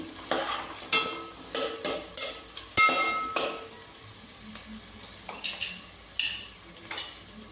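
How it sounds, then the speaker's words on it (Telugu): Onions and green chillies fry in oil with a steady sizzle while a spoon scrapes and stirs in repeated bursts, metal clinking against the pan close by. "ఉల్లిపాయ ఉల్లిపాయ పచ్చిమిరపకాయలు వేగాలండి"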